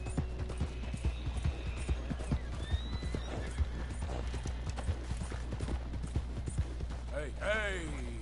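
Horse hooves clip-clop steadily in a PS4 video game, with a horse whinnying near the end over a low ambient hum and scattered game sounds; a voice talks at points.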